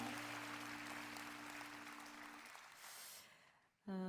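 Worshippers at a praise prayer meeting clap in glory to the Lord, a broad steady applause under fading music that thins out and drops away before a sharp final sound.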